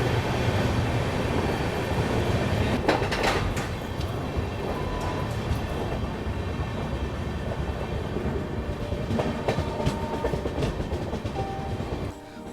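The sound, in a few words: Kashi Tamil Sangam Express train running past Ongole station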